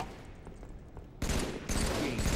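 Bursts of rapid gunfire in a King of the Hill match on the map Construct, loud and dense, starting abruptly after a quieter stretch of background noise.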